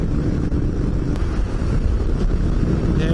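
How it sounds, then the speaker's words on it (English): Wind buffets the microphone while big motorbikes ride through a national park, a loud continuous low rumble and roar with no clear voices. "the wind's starting to pick up"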